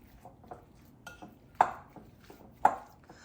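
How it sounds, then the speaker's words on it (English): Beef is mixed with garlic and Dominican oregano in a bowl, producing soft, irregular clinks and taps of a utensil against the dish, with two sharper knocks standing out. "you're gonna put your garlic and oregano in the beef, and you're going to mix everything together"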